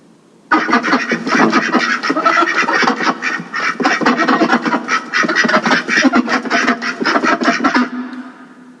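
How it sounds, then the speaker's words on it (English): Ducks quack rapidly and continuously for several seconds, a dense, loud chorus of nasal calls close by. "Duck."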